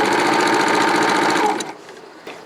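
A serger sewing machine runs at full speed in a loud, steady whirring chatter while pedal-driven sewing goes on, then it stops abruptly, leaving quiet with a couple of faint clicks.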